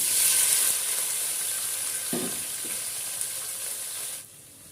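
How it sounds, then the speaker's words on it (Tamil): Onions sautéing in hot oil with bay leaf, cinnamon, cloves and cardamom for a biryani, a steady close sizzle with a couple of brief stirring scrapes before the frying noise drops away near the end. "வெங்காயம் வதக்கணும்"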